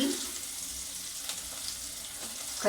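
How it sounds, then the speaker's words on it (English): Beetroot chutney sautés in a pan over a low flame, a soft, steady sizzle and gentle hiss running evenly throughout at low volume. "Just saute it."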